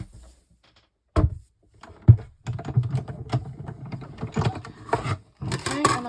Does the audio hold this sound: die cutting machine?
yes